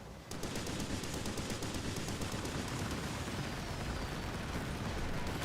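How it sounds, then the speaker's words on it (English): Rockets fire at a ship during a naval battle in the Skull and Bones pirate game, a dense, loud, continuous roar of rapid blasts and explosions that starts abruptly and keeps going throughout. "Stupid rockets."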